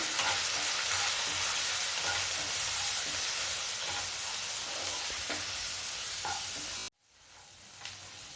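Masala with turmeric and salt fries in a pan for jackfruit curry, giving a constant close sizzle with faint stirring scrapes that stops abruptly near the end, leaving only quiet room noise.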